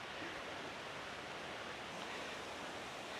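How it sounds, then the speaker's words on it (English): Steady broadband rush of a waterfall where a stream from Mount Hallasan drops over a wall on Jeju's Olle Trail 6, a continuous even roar with no talk. "I can hear the rush of a waterfall."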